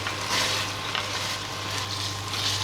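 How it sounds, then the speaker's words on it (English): Chunks of beef frying in a pan on a medium hob for beef bourguignon sizzle steadily, a soft continuous crackle with gentle swells, close and alone without talk. "then you'll just be actually frying the meat"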